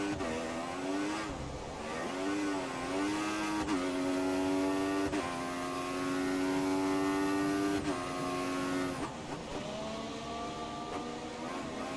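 Opponent race cars in a Codemasters F1 game droning past, their engines giving steady whining tones that hold and then step in pitch through gear changes, continuous and moderately loud with no talk.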